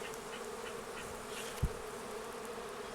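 A bee swarm arrives at a swarm trap outdoors, a steady faint buzzing hum of many insects throughout, with one brief low thump partway through.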